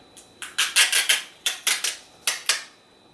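Packaging being ripped open on a Becca Hydra Mist Set and Refresh powder, a series of about eight sharp, close tearing and crinkling bursts in quick clusters against near silence.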